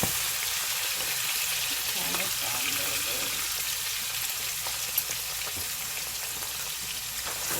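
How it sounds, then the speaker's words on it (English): Garlic frying in a hot pan just after salmon has been browned, giving a steady, close crackling sizzle that holds evenly from start to finish with no pauses. "Now to this we are going to add our garlic."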